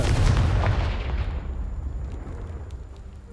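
A loud blasting-spell explosion in the Hogwarts Legacy video game: a heavy, booming burst that hits hard at the start and then rumbles and crumbles away over a few seconds, with no voice over it.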